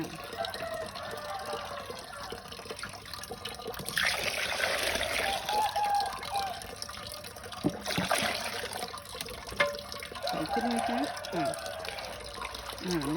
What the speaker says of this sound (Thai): แล้วก็ล้างแบบนี้ค่ะเพื่อนๆล้างไปเรื่อยๆนะคะ จนน้ำใสค่ะ